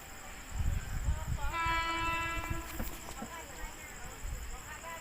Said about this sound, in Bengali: ওদিক দিয়েও একটা ট্রেন আসছে আপে, একদিকে ডাউন দিয়ে ঢুকছে।